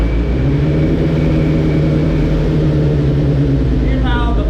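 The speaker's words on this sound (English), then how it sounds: "Here's how the bike idles up." A Suzuki GSX-R 1000R motorcycle fitted with a Yoshimura Alpha T exhaust idles on a dyno, a steady low engine rumble that holds a constant pitch, with a brief higher whine near the end.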